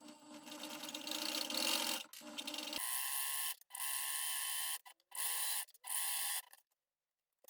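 A sewing machine stitches seams on a coat lining in several loud mechanical bursts, each a rapid, even whirring run separated by brief pauses, close up and with no talking.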